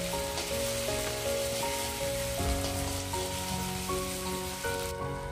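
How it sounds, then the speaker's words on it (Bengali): Ginger paste fries with garlic paste in a hot pan, giving a steady, dense sizzle that runs unbroken at close range, with faint tonal hum underneath and no talking. "আদাটাকেও কয়েক সেকেন্ডের জন্য নেড়ে চেড়ে নিয়ে ভেজে নিচ্ছি"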